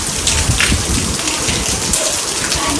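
Heavy rain pours down steadily, a dense close hiss of drops drumming on surfaces, with low rumbling underneath.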